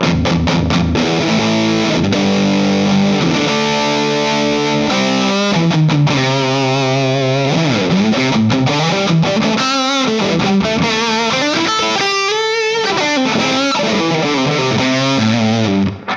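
Loud, sustained electric guitar through a Donner Dark Mouse distortion pedal, playing chords and riffs, thick and fuzzy with a chorus-like shimmer, continuous throughout.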